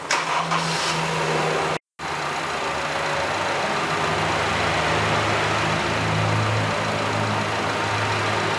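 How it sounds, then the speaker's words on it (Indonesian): Car engine idling steadily, with a low continuous hum and rumble after a brief cut near the start, close and even throughout. "sekarang kita tes untuk menyalakan mesin mobil dahulu dan menunggu beberapa saat"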